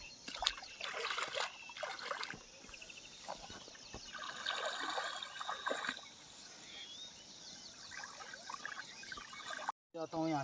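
Water trickles and drips out of soaked rice seeds being drained in a hillside village, a soft, close, uneven patter with a brief sharp cutoff near the end.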